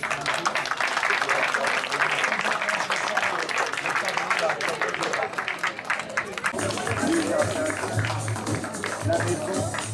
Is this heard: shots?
no